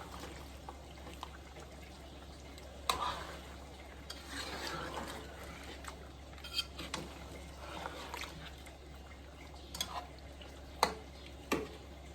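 Chicken roast is stirred and mixed in a pot, with scraping spoon strokes and occasional knocks over a soft sizzle, close by and moderately quiet.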